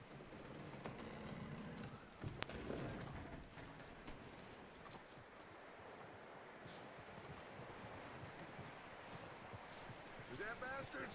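A horse's hooves walk at a steady clip-clop across ground in the Red Dead Redemption 2 video game, moderately close under a constant bed of wind and outdoor ambience.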